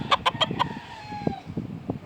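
A hen clucks in a quick run of short, close calls, followed by softer scattered clucks and faint bird chirps in the background; an old breeding hen kept with her son.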